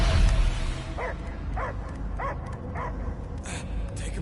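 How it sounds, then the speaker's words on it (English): A dog in the Guardians of the Galaxy video game barks four times at a steady pace, each bark sharp and close, standing out over a constant game score and ambience with no speech. "I hear only barking."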